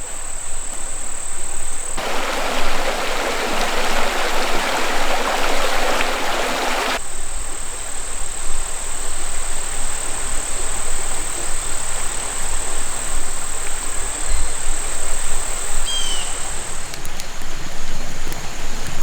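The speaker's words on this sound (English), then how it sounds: "we've got this creek here running alongside. So we got the sound of running water tonight." Continuous rushing of a creek close by in Arkansas backcountry, with a shrill mosquito buzz overhead and a brief burst of louder splashing early on.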